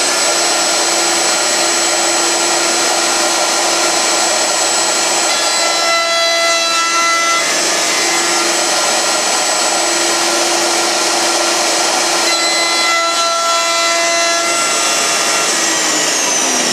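A router cuts a dado into wood with a loud, steady high-pitched whine and rough rasp of the bit chewing through the stock. It eases briefly twice between passes, and no one speaks.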